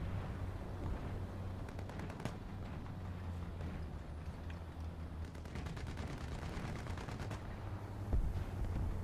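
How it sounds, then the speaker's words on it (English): Machine gun fire in a War Thunder ground battle, heard as distant rapid bursts over a steady engine rumble, with one louder crack near the end. "he's machine gunning whatever that is"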